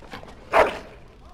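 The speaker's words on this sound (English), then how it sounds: "Bloody dog." A single short dog bark, close and fairly loud, rising briefly out of a quiet background.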